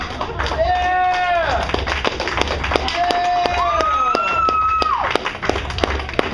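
An audience applauds a comedian at a stand-up show. Sharp clapping runs throughout, loud and close, while someone speaks and draws out his words over it.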